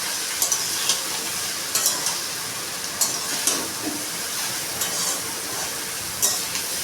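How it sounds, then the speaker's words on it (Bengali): Kachki fish curry with green chili gets stirred in a pan, soft frying hiss under a steady run of spatula scrapes and light taps against the metal, close and fairly quiet, no talking. "ভালো করে এগুলোকে একটু মিশিয়ে নিলাম"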